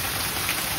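Torrential monsoon rain in Konkan falls across flooded farm fields in a brief, loud, unbroken hiss of downpour, with no voices.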